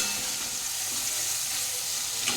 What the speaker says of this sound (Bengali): চিংড়ি মাছগুলোকে ভালো করে ভেজে নেবো